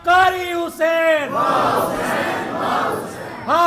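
At a large Islamic religious gathering, a single voice gives a loud call and a crowd roars back in unison. A sustained mass shout swells and holds, then the lead voice returns at the end.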